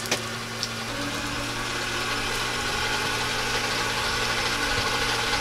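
The starter motor of a Volvo 740 turns over weakly, a steady low whirring drone that drags on without the engine catching, close and fairly loud.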